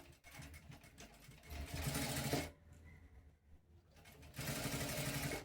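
An electric sewing machine runs in two steady bursts while stitching a straight-cut kameez, with a quieter pause in between, a close, even whirring hum.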